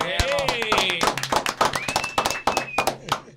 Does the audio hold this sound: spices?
no